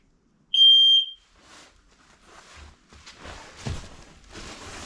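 A smoke alarm gives one loud piercing beep lasting under a second, followed by quieter shuffling and handling noises, as if someone is moving about nearby.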